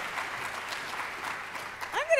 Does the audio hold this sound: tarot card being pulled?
no